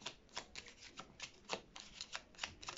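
Tarot cards are shuffled and drawn by hand, a faint run of quick papery riffles and soft card slaps in a steady patter, close and without talk.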